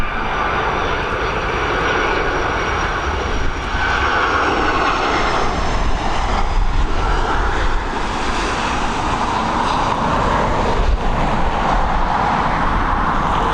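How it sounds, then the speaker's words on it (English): A Boeing 757 jet roars steadily and loudly as it comes in to land at Dublin Airport, a continuous, broad engine rumble filling the whole stretch without talk. "Here we go with 757 operated by Jet Magic coming in from Amsterdam."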